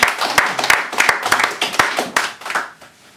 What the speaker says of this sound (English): More applause please for Kieth and Suzanne Drake.